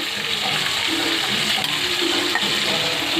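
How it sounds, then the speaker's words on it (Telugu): Fish fries in hot oil, with onions frying alongside in the same pan, giving a loud, constant crackling hiss that never lets up. "దోరగా వేయించిన చేపలు దోరగా వేగుతున్నాయండి"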